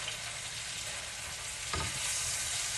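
Salami frying with spices in a pan, a steady dense sizzle throughout with a brief stirring scrape partway, close and without talk.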